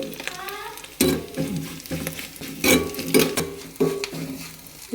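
Dried whole red chillies roast with prawns in a pan for a prawn chammanthi, with a steady low sizzle broken by several louder scraping stirs at an irregular rhythm, close by.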